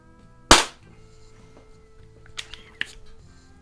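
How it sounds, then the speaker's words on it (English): One crisp pop from a Gamo Compact .177 single-stroke pneumatic target pistol firing indoors, followed by a few faint clicks and handling knocks. "even without proper sighting, this thing is a good shooting gun"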